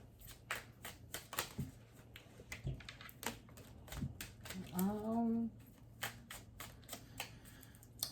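Tarot cards are shuffled with quick crisp riffles and taps in an irregular rhythm, close by, with a brief voice sounding partway through.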